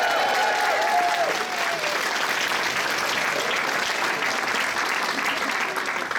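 A crowd at an anime convention masquerade breaks into loud, sustained applause, a thick wash of clapping that stays strong throughout, with a brief voice audible at the start.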